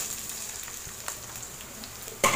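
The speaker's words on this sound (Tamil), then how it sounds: "இப்போது இதில் வந்து இந்த வெங்காயமும் கருவேப்பிலையும் நம்ம ஆட் பண்ணிக்கலாம்." Onions and curry leaves frying in a pan with green chillies for egg fried rice, a dense continuous sizzle close by, ending in a sudden louder crackling burst.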